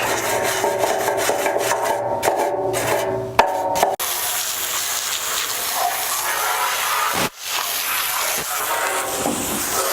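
Stiff brush scrubbing surface rust off the bumper of a 1966 Buick Riviera, a loud, steady rasping rub with brief pauses and a change in scrubbing stroke partway through, no talking.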